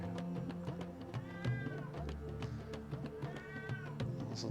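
A deaf cat meows repeatedly in drawn-out, plaintive cries, fairly close, over a steady low background hum.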